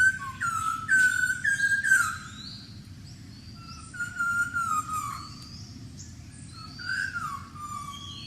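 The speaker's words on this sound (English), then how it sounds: "The correct answer is the Malabar whistling thrush" Clear, melodious whistled phrases from a Malabar whistling thrush, rising and falling notes repeated in bursts with pauses, over a low steady background hum.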